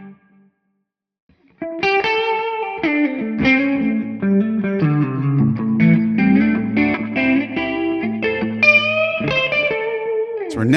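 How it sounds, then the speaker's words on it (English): Electric guitar played through Tonex modulation and tape delay effects, a melodic run with chords and single notes rising after a brief silence, loud and close with shimmering repeats trailing behind. "And then we can add in some nice modulation that we've received. Some delay possibly, maybe a nice little tape delay."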